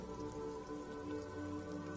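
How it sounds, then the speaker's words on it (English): Heavy rain falls in sheets over water in a video game, a dense, steady patter and hiss filling the short stretch evenly, with a faint underlying tonal hum and no voices. "Sheets of rain over the water"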